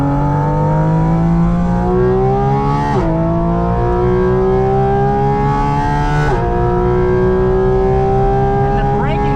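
A Porsche GT4 RS engine revs hard while driving, with a loud, continuous rising wail from inside the car and two sharp drops as it shifts gears.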